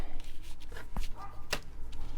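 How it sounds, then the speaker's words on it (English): A small handbag-sized dog next door gives a few short, sharp yips and barks at a distance, scattered irregularly over background room noise. "There's the little handbag dog again."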